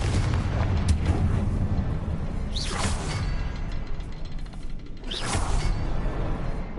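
Confringo fire spell blasts in Hogwarts Legacy, two whooshing fiery bursts a couple of seconds apart that swell into booming explosions over a dense, continuous game soundscape, loud and close.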